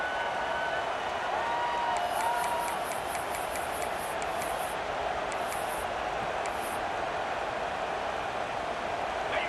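A packed Ohio State stadium crowd in the video game College Football 26, Ohio versus Ohio State, roars in a constant dense wash of cheering and noise, with faint whistle-like tones rising above it.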